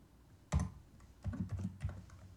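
Computer keyboard keys are pressed while coding, a sharp loud keystroke followed by a few softer, irregular taps close by in an otherwise quiet room.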